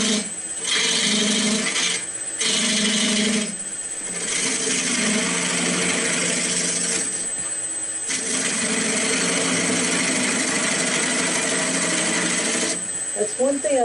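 Ruby Cler eccentric bat turning tool cutting a wood sphere on a lathe, giving a steady raspy scraping that runs almost throughout, with a few short breaks and shifts in tone as the cut changes.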